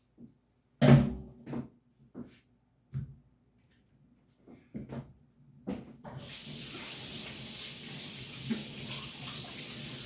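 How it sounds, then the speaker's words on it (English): Hands being washed under a running kitchen tap while grilling picanha: a few knocks and handling sounds first, then a steady loud rush of water flowing for the last few seconds. "little bit of a hand wash there"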